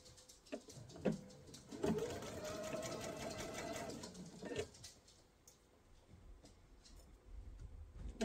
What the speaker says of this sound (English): We're sewing on the raw edge.